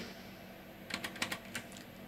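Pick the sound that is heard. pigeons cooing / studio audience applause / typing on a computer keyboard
typing on a computer keyboard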